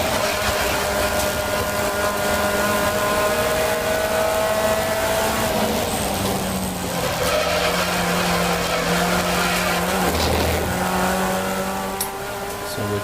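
Race car at Brands Hatch GP circuit during a trackday race, engine droning loud and steady throughout with shifting pitch as it powers through a corner under heavy throttle, tyres losing traction with some skid noise.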